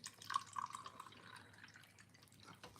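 Water dripping and trickling as a potted plant is watered indoors, a few close bright drips early on followed by a softer, quieter patter, with no voices.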